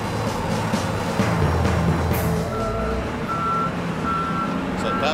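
Reversing beeps from a bulldozer compacting soil at a fairground site ring out as a steady series of evenly spaced tones over rumbling diesel engine noise, fairly close and clear, with no talking.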